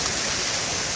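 A waterfall beside a mountain route in Nepal, between Dang and Thawang, roars as a steady, loud, broadband rush of falling water with no other sounds.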